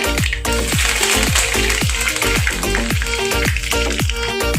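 Mustard seeds and cumin splutter and pop in hot oil, a dense run of sharp crackles over a steady sizzle, loud and close with no talk.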